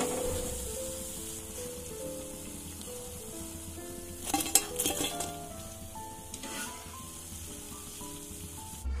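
Eggplant fritters (beguni) fry in oil with a soft, low sizzle, broken midway by a short cluster of clinks and crackles as pieces are handled.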